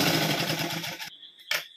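A sewing machine runs a fast, steady stitch along the top edge of fabric for about a second, then stops, followed by a short click and a brief burst of handling noise.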